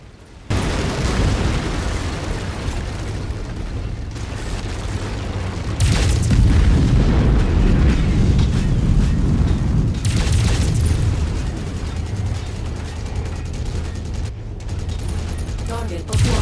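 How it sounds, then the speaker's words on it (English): In the MechWarrior 5 video game, a mech walks through buildings and knocks them down. Dense, loud rumbling crashes and booms roll on continuously and swell heavier through the middle. "Demolishing buildings is as easy as walking through them in many cases."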